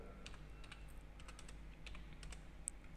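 Rapid, light keystrokes on a computer keyboard while entering data in Excel, an uneven patter of close clicks with no talk.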